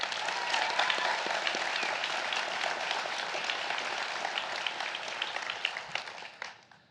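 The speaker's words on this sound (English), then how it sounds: "can we give another round of applause for this guy?" A crowd applauds steadily, dense clapping filling the space for several seconds before tapering off at the end.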